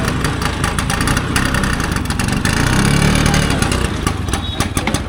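An old Bajaj Chetak scooter engine runs loudly and close after being kick-started, a continuous mid-pitched putter with slight surges, while voices murmur faintly underneath.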